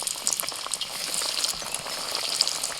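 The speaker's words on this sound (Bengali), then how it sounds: "একদম এরকম ডুবন্ত তেলে ভাজতে হবে।" Coated boiled eggs for Kolkata-style egg devil deep-fry in a pan of hot oil, giving a steady close crackling sizzle with scattered pops throughout.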